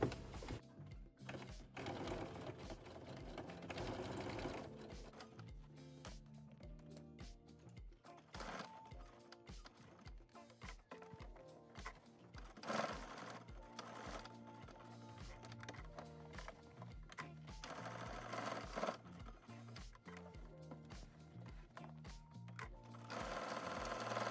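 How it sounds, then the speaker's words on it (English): A sewing machine double stitching along the edge of a denim jacket pocket runs in quick mechanical bursts with short pauses, close by, with no talk. "you can do the double stitching across the edge of the pocket, but stitch it from the wrong side"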